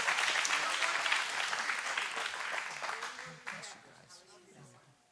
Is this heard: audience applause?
yes